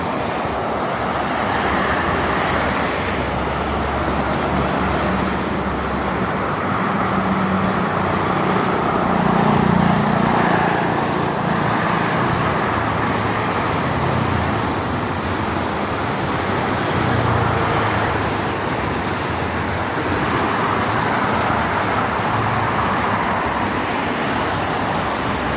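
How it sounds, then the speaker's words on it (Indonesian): Continuous traffic on the Jakarta–Cikampek toll road in the morning, a dense steady roar of passing cars and buses with swelling engine and tyre noise, loud and unbroken, no talk. "informasi arus lalu lintas tol Jakarta Cikampek pada kesempatan pagi ini"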